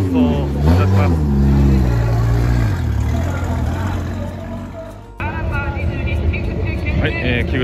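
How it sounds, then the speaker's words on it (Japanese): A Nissan Laurel C33 drift car pulls away for a D1GP qualifying run at Ebisu Minami. The loud, close engine revs with rising and falling pitch, then cuts off abruptly into a busier, rougher engine roar, with a voice heard over it. "今予選走行に向けて、出走いたします。"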